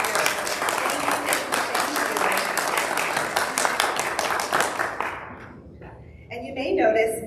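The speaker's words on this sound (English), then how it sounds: "Let's give a big round of applause to all of our amazing volunteers." A congregation at a spiritual living center applauds its volunteers, a steady, full clapping that lasts about five seconds, then stops; a voice speaks afterward.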